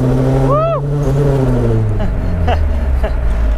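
A turbocharged 1993 Mazda Miata drives along. The engine drones loudly and steadily inside the cabin, with a rising turbo whistle near the start and brief chirps and flutters later.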